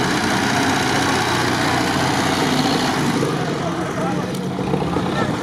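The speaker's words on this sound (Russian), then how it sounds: "Я думаю, что тут за трактор исполняет." A tractor engine labors at the Monster Trophy 2020 off-road raid. A loud, continuous, rough engine drone runs throughout with slight variations in intensity.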